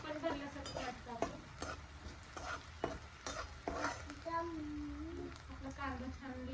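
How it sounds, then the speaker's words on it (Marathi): Onion sautéing in a pan for kanda poha gives a soft sizzle under repeated scraping and tapping of a spoon as it is stirred, while a voice talks over the cooking. "आपला कांदा छान लालसर परतून घ्यायचा आहे"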